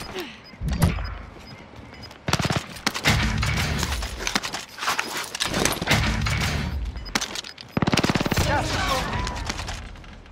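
Small-caliber gunfire in a military video game crackles in repeated bursts of sharp shots, loud and close, with brief pauses between volleys and some background game noise.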